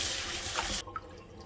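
Hot water splashes and runs while beef tripe is rinsed in a bowl. The soft, steady wash is fairly faint, then cuts off into a few quiet drips and small trickles.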